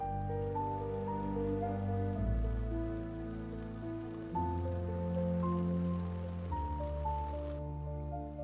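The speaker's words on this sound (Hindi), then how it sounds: "ये बारिश मुझे सोचने में मदद कर रही है।" Steady rain falls throughout an outdoor scene from a Chinese kung fu action film, a soft hiss sitting under a sustained, loud musical score with shifting low tones.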